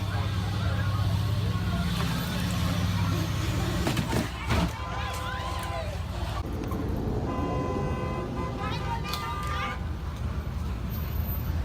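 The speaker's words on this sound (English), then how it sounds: "just a loud car going by" A loud car passes close by over steady outdoor background noise, with brief honk-like tones and a cat-like cry mixed in partway through.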